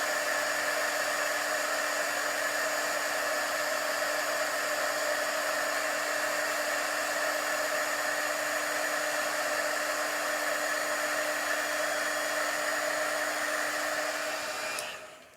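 An embossing heat tool blows a steady, loud, whirring hum with no break while it melts embossing powder on vellum, then it cuts off at the very end; no one speaks.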